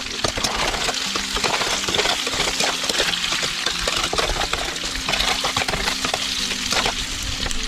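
Onions sizzle and crackle steadily in a hot pan while a utensil stirs them, producing a dense, continuous frying hiss with frequent scraping and clinking accents.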